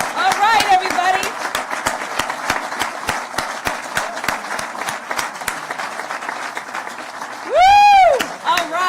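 A crowd at a state affordable-housing awards ceremony keeps up loud, sustained clapping, with a sharp whoop rising above the applause near the end and voices mixed in.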